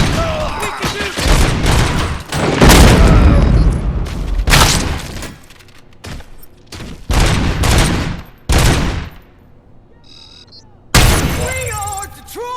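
Gunfire during a RoboCop Rogue City shootout, loud bursts of rapid shots and heavy booms in clustered volleys with short pauses, with shouting voices mixed in.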